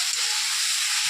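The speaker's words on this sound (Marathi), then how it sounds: "मी गोबी सोडली. आता मस्त फ्राय करून घेते." Gobi (cauliflower) frying in a pan with spices and coriander, a steady, close, continuous sizzle and hiss held evenly throughout with no voices.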